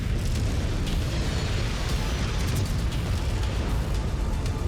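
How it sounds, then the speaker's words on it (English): Missiles chain-fired from a mech in MechWarrior 5 Clans burst into a dense, continuous rumble of explosions, loud and steady throughout with heavy low-end booming and no pauses. "we can just sit here and like chain fire missiles"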